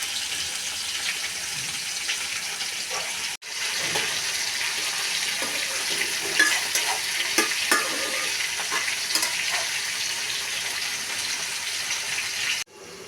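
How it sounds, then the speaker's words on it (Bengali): Chopped vegetables sautéing in a pan with salt, turmeric, chili and cumin sizzle steadily and fairly loudly, with occasional stirring scrapes. The hiss cuts off abruptly at the start and again near the end. "এখন নেড়েছে লবণ, হলুদ, মরিচ, জিরা দিয়ে কষিয়ে নিব।"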